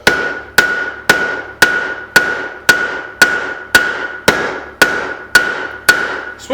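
A straight peen hammer strikes steel being forged for a candle holder, twelve sharp ringing blows at a steady even pace, each with a bright metallic ring that fades before the next, close and loud.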